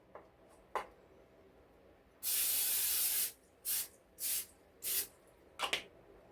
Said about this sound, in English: we're going to spray our basket